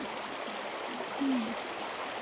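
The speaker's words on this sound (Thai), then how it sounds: "แม่น้ำตีเป็นฟองแบบนี้เลยค่ะ" Mountain river in the Chiang Rai highlands foaming over rocks, a steady broadband rush of water heard close and continuous throughout, with a brief low tonal sound partway through.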